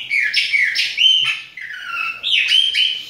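A viúva songbird sings alone, a close, loud run of bright chirps and warbled tweets in quick phrases with short gaps, no voices over it.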